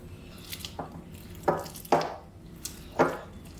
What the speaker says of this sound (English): we're just gonna press them in until the almonds are evenly distributed